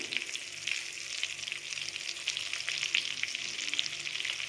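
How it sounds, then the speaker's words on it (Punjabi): Stuffed eggplant frying in oil crackles with a bright, even sizzle while it is stirred in the pan, a close and steady sound with no talking. "ਥੋੜਾ ਜਿਹਾ ਤੇਲ ਨਾਲ ਸਾਰੇ ਨੂੰ ਇਦਾਂ ਚਲਾ ਲਾਂਗੇ"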